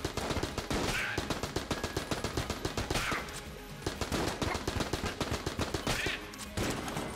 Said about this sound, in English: we've only got this gun, so we might as well use it